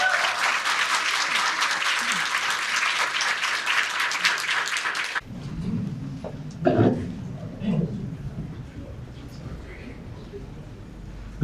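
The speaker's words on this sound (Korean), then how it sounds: "김문수 장관님께 한 번 더 큰 박수 부탁드리겠습니다." An audience of young people in Daegu applauds loudly for former minister Kim Moon-soo for about five seconds; the clapping then stops abruptly and a voice begins speaking.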